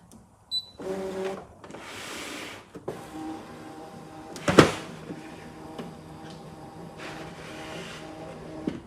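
A Brother ScanNCut cutting machine runs a print-and-cut job on text, giving uneven mechanical whirring and motor bursts with one sharp clack midway, close and fairly quiet with no talking.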